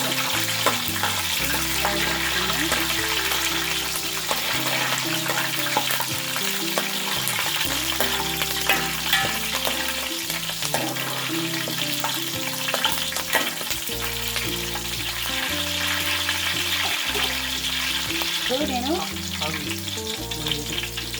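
Green chillies frying with curry leaves in oil in a pan for a crab curry, giving a loud, steady, continuous sizzle and crackle with a faint underlying hum, without any speaking.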